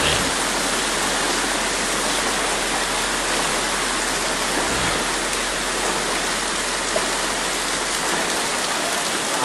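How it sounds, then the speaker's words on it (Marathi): Rain-swollen floodwater rushes through the narrow lanes of Trimbakeshwar in a dense, loud, unbroken roar like a waterfall, steady throughout with no voices. "हे आजचा पाऊस त्र्यंबकेश्वरमधला गंगामाई दोन्ही बाजूने आलेली आहे"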